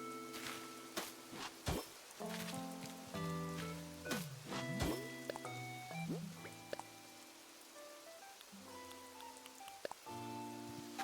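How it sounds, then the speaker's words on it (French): Rain and storm ambience in a video game, steady patter of raindrops and drips with scattered sharp taps and layered tonal game sounds, moderately loud with no talking. "La pluie, les orages aussi, j'adore le bruit de l'orage."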